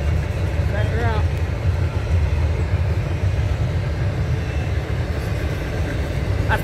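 Norfolk Southern freight train with a boxcar among intermodal cars rolls past close by, a steady loud rumble with wheel and car noise throughout, while people talk over it.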